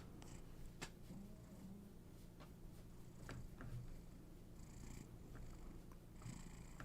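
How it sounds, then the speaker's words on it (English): A male cat purrs very faintly and steadily, close by in a quiet room, with soft scattered handling noises and no talking. "See if I can get him purring."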